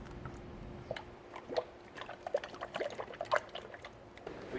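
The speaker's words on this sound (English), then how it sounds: "We just dumped our distilled water into here so we get all the extra residue out of here." Distilled water poured into the radiator of a 2011 Lexus GS 350 during a coolant flush, a quiet splashing trickle with scattered drips and gurgles, faint and close over low background hum.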